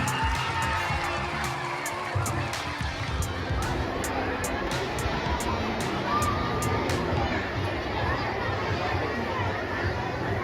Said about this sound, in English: Let's welcome her with a big hand clap